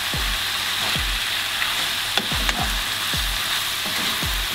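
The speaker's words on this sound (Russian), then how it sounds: "Перемешиваем." Zucchini and teriyaki sauce sizzle steadily in a frying pan while being stirred, with a soft thud or scrape of the utensil about once a second over the constant close frying hiss.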